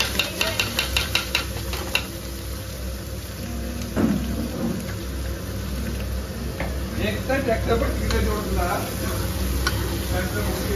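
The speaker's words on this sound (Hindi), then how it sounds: "इधर मेरा पक रहा है मसाला अभी" Masala with cumin, coriander and cardamom frying in a pan in a home kitchen, a steady crackling sizzle broken by the scrape and clatter of stirring, with someone talking now and then over it.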